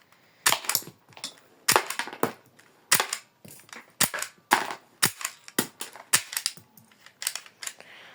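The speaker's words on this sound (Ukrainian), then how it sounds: "і зараз ми будемо стріляти по коробці." Rapid sharp cracks of a toy Glock 18 pistol firing at a box, about twenty snappy shots in quick bursts, close and loud with short gaps between.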